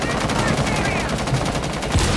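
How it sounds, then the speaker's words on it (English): Rapid gunfire in the video game Rainbow Six Siege, shooting bandit charges: loud, continuous automatic bursts with a dense crackling texture that fill the whole stretch without pause. "someone needs to shoot the bandit charges"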